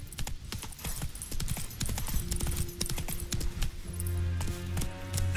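Clip-clop of the horse Roach's hooves in The Witcher 3, a steady trotting rhythm of close hoofbeats carrying on throughout, with game music and ambient tones underneath.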